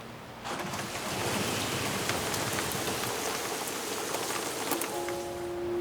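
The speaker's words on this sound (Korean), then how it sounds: "지금 비 오는 거 모르죠?" Steady, dense rain pours down at night outside a hotel window, a loud continuous hiss that fills the scene with faint patter over it.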